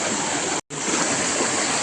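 A river stream at Jatashankar on Girnar, Junagadh, rushing steadily and close by, loud broadband water noise broken only by one brief dropout.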